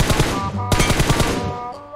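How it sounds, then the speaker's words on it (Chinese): Rapid video-game gunfire hits an enemy's head, each shot landing with a sharp metallic ding, in fast bursts up close with loud ringing tails. "听听打他头的声音"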